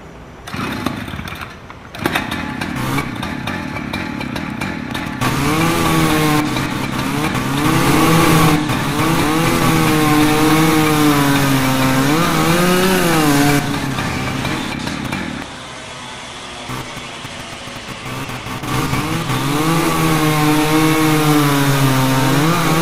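A chainsaw in the firefighting video game EmergeNYC, its engine droning loud and close with rising and falling revs over several seconds, cutting out briefly midway before revving again.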